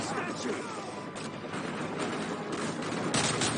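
Rapid bursts of gunfire crackle in Call of Duty: Modern Warfare 3, dense overlapping shots and impacts forming a loud fusillade, with a player talking over the action.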